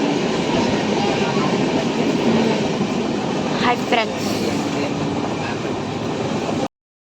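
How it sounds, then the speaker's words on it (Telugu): A train rumbling at Rayagada station, a steady loud rolling roar with a brief squeal or horn-like tone in the middle, and a short greeting spoken over it. "ఇదే మాది స్టేషన్. ట్రైన్ ఇదే చూడండి"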